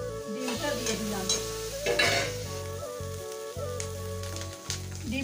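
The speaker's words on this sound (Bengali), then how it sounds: "লাল হয়ে গেছে লঙ্কাগুলো, ডিমটা দিয়ে দিলাম" An egg sizzles in hot oil with fried red chillies and spices in a home kitchen pan, a soft continuous frying hiss with occasional stirring scrapes and a steady hum underneath, no voices.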